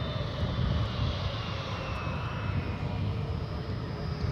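An airliner on approach to runway 17 center at DFW Airport gives off a steady, broad jet-engine roar with a faint high whine, sustained and fairly distant throughout.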